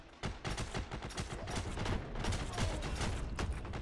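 Rapid bursts of automatic gunfire and single shots in the Heroes & Generals video game, loud and dense, firing almost nonstop in overlapping volleys with no pauses.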